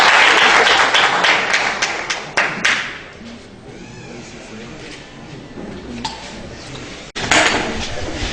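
Dense applause from an audience at a French-speaking gathering, loud and steady at first, then tapering off into a quieter room with scattered sounds, before a final short burst of clapping.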